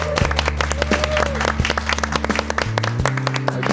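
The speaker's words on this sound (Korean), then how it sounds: "힘찬 박수가 굉장히 힘이 되는 것 같습니다" Audience applause at a church lecture: a burst of brisk hand clapping from a seated crowd, with a low hum running underneath.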